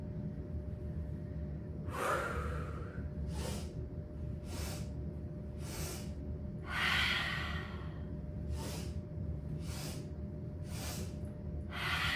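Slow, deep breathing during a yoga session: about nine long, airy exhales spaced a second or so apart, soft and close over a quiet low hum, with no talking.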